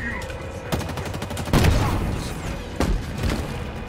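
A chopper vehicle in the video game Halo Infinite firing rapid bursts of gunfire, followed by heavy booming explosions, loud and close amid a busy game soundscape.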